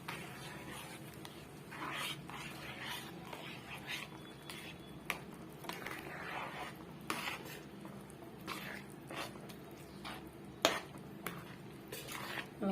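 Rice flour chuna dough stirred in a pot with a spoon, producing soft repeated scraping and occasional metallic clinks against the rim, close and fairly quiet with faint background hum.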